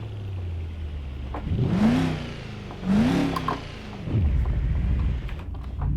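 A BMW M5 engine in the video game Euro Truck Simulator 2 revs hard twice, rising and falling in pitch, then settles into a steady rumble under a constant background hum.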